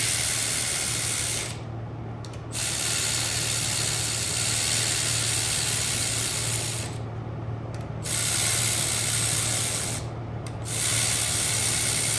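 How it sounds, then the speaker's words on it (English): A hand ratchet snugs the main girdle bolts on a 1000HP B-series engine in long, dense runs of rapid clicking, close and loud, with three short pauses between the runs. "I'm going to go ahead and just use my ratchet here."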